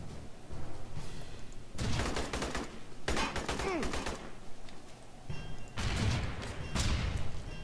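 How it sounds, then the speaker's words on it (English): Sharp rifle fired in the video game Aliens: Colonial Marines, a grenade-launcher-like weapon, heard as several loud bursts of booming shots separated by quieter gaps, with game sounds in between. "let's see what this damn sharp rifle does"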